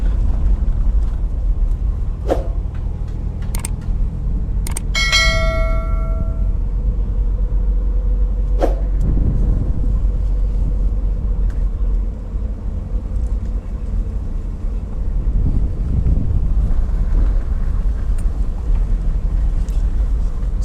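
A car drives along a bumpy mountain road in rural St. Elizabeth, Jamaica, with a steady low engine and road rumble inside the cabin, a few sharp knocks and clatters as it jolts, and a tone-like squeak near the start.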